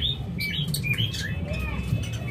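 A male high-mutation pet bird chirps in quick, bright tweets and short trilling calls, close and fairly clear over a steady low background hum.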